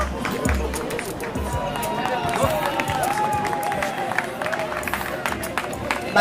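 Marathon runners reach the finish line on the Fundación bridge during a patriotic marathon, met by scattered clapping and crowd babble, with footsteps and a voice talking over the ongoing applause.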